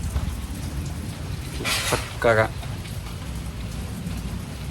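Heavy rain pours down steadily outside a home during Dasara festivities, a constant wash of hiss and patter, with a brief spoken word rising over the downpour midway.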